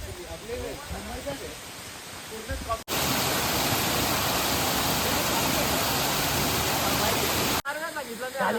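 A waterfall on the Ajoba mountain trek roars as a loud, steady broadband rush for several seconds, with people talking before and after it.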